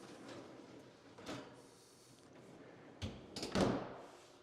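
Double slide-out freezer baskets on a French door fridge in an appliance showroom, giving a few soft sliding rumbles and a louder clunk near the end, with quiet room noise around them.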